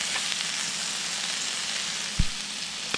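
Green beans sizzle steadily on a George Foreman grill, a continuous bright hiss with one short thump near the end and a faint tap just after.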